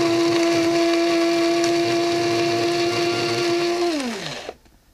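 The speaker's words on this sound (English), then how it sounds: "So let's get a grind going here." An electric grinder grinds pipe tobacco into a fine powder, with a steady loud high whine that holds for about four seconds, then winds down in pitch and stops.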